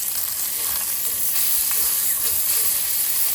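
Beef tenderloin filets sear in a hot pan, giving a steady, loud sizzling hiss with faint crackles and pops throughout and no voices.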